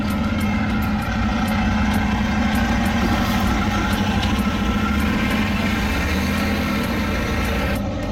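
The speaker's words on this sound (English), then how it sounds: "And there's another truck." A truck engine idles nearby in a steady, low, loud rumble with a faint rhythmic pulse throughout, no voices over it.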